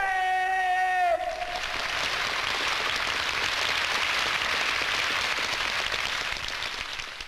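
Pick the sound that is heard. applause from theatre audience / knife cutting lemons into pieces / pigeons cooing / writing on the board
applause from theatre audience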